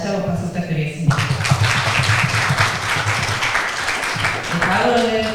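Audience applause at a school opening ceremony and thanksgiving service, a steady sustained clapping from a crowd that carries on loudly for several seconds, with a voice heard at the start.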